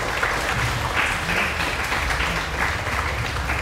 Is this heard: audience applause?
yes